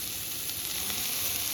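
Leafy greens hit hot oil with onions fried until reddish, giving a steady, close hiss of sizzling that stays even and unbroken for the whole short moment, with no voices.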